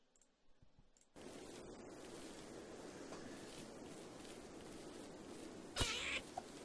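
Faint game audio from a Rimworld colony: after a quiet start, a soft, steady noisy bed sets in, with a brief brighter burst near the end as the cat goes after a rabbit.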